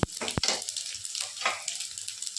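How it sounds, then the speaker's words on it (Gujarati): A curry mixture with a curry-leaf tempering is stirred in a pan, spoon scrapes and sloshing swishes coming in irregular bursts over a soft sizzle, close and fairly loud, with no talk. "મિશ્રણને હલાવી અને મિક્સ કરી લેવાનું છે"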